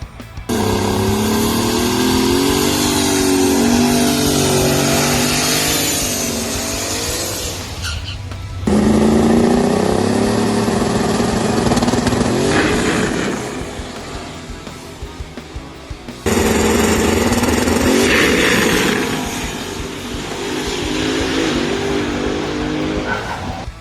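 A HEMI drag car with a blow-through carburetor roars through a quarter-mile pass, its engine loud and close in three sustained bursts broken by abrupt drops as the throttle is lifted, with harmonic revving and shifting pitch throughout.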